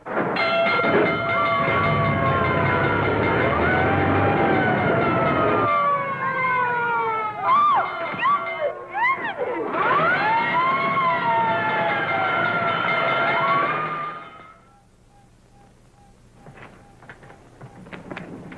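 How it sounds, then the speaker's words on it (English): A 1930s fire engine siren wails close and loud, rising and falling in long sweeping tones with overlapping pitches, then cuts off abruptly, leaving a faint low background hum. "looks as if I finally get my ride on a fire engine"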